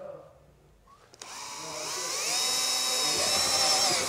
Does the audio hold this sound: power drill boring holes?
yes